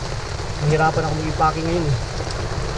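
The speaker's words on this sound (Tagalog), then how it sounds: "Kasi malakas yung ulan." Heavy rain falls at a campsite at Sunridge resort, a steady close hiss drumming on surfaces throughout while a person talks over it.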